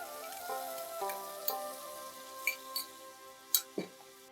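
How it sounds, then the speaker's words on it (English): Soft, steady sizzling of onion paste frying in mustard oil, with occasional faint pops and light clinks from a pan. "While the onions are frying"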